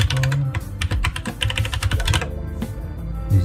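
Fast, close clattering of keys on a computer keyboard as a password is entered during a Windows Server domain join, a dense run of crisp taps with short pauses and no talk.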